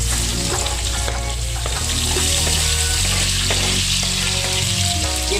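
Vegetables for a Kashmiri mixed veg pulao fry loudly in a pan with a dense, continuous sizzle and scattered spattering pops, close up and with no speech.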